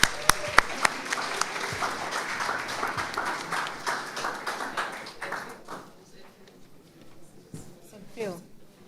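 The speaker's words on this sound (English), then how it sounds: "Give them a round of applause," Audience applause at a youth development division graduation ceremony, a dense burst of many hands clapping close and loud that gradually thins and fades over several seconds, with voices murmuring beneath it.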